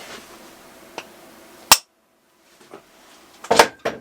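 A few sharp metallic strikes, spaced apart, each a short loud crack of a hammer on an impact driver, with quiet gaps between them, during monkey bike clutch removal.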